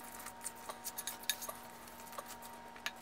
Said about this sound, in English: And mix it up with a fork.